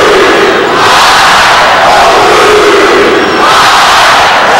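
A loud, dense basketball crowd roars and cheers without a break at Humphrey Coliseum in Starkville as Mississippi State plays Bradley in a 2007 NIT second-round game, with a swell of noise rising throughout.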